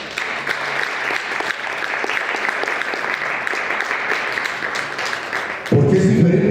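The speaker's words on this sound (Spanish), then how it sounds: "¿Por qué no le da un aplauso al Señor?" A church congregation applauds together in a steady, fairly loud burst of many hands, shifting near the end as a voice and other sounds come in over the clapping.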